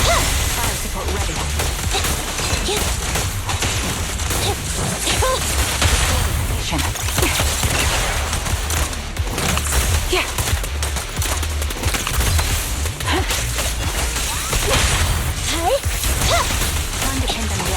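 Rapid bursts of gunfire from Zenless Zone Zero combat, dense and continuous throughout, mixed with whooshes, impacts and mechanical clatter under game music, with occasional voice lines.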